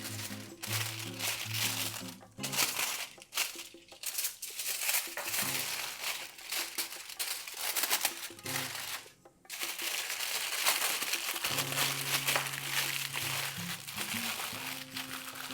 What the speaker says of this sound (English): now I'm going to show you how to wrap them in foil